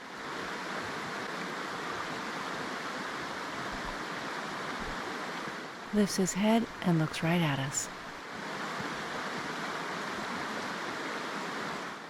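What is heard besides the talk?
river flowing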